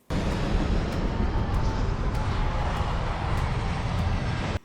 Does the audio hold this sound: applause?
no